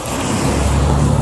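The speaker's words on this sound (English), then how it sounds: "I'm trying to avoid an oncoming car." A car drives past on a road in Chartres, France, a loud, close, steady roar of engine and tyres that fills the whole moment, with no talk over it.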